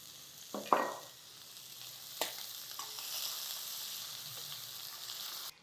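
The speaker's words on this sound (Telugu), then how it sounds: "ఒక ఉల్లిపాయ సన్నగా ముక్కలు తరిగేమో అవి వేసేస్తున్నాను" Thinly sliced onion hits hot oil in a pan for masala khichdi with a clatter, then settles into a steady close sizzle, with a stirring scrape partway through and no talking.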